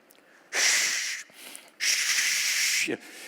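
A person imitates wind with two long, breathy hissing blows, close and loud, separated by a short pause.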